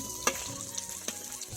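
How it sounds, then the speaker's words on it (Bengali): Fish frying in oil in a pan gives a quiet, steady sizzle broken by a couple of sharp clicks from utensils, heard close with no speech. "দেখো কি সুন্দর লাল লাল করে মাছগুলো ভেজে নিয়েছে।"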